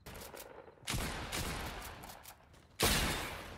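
Fortnite gunfire rings out as a few sharp, fairly faint shots, with one burst near the start of the clip and a louder blast toward the end.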